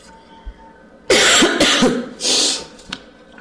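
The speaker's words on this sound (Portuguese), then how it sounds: "desculpa a tosse." A burst of harsh coughing, three or four rapid coughs followed by a throat-clearing rasp, close and loud with quiet before.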